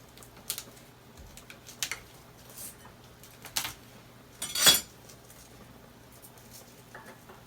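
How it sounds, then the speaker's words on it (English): Four garlic cloves get a light crush in a kitchen while making pozole verde: a few scattered, sharp taps and knocks, with one louder crunching thud in the middle, close and otherwise quiet. "I usually put in about 4 cloves of garlic. Just give those a little crush."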